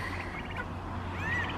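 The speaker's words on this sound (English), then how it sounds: "And we also have young turkeys" Young turkeys penned in a barn gobble and chatter in a short, loud, close burst of overlapping warbling calls.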